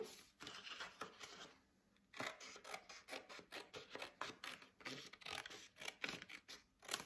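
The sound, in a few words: scissors cutting paper along pencil line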